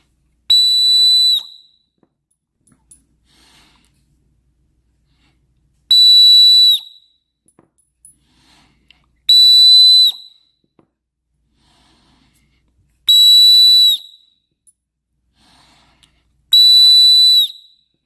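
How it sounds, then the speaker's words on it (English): WE Knife emergency whistles blown one after another, five loud, shrill sustained blasts of about a second each, separated by several seconds of quiet, with no talking. "And I'm going to go through all 5 whistles."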